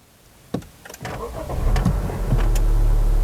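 A Honda City Hatchback RS is restarted: a click and brief starter whir give way to the engine catching and settling into a steady, close idle hum that stays constant to the end.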